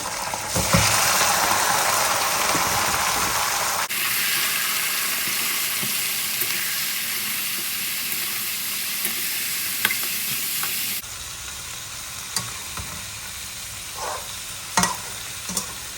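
Sliced onions sizzle loudly in hot oil while being stirred toward brown in a home kitchen, a continuous frying hiss with occasional scraping knocks of the spoon in the pan.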